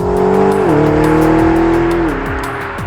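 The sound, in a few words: McLaren GT 4-litre twin-turbo V8 engine accelerating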